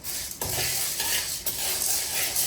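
Dried red chillies frying in hot oil in a pan, a bright crackling sizzle that jumps up sharply as they hit the oil, with occasional stirring scrapes, close and continuous without talk.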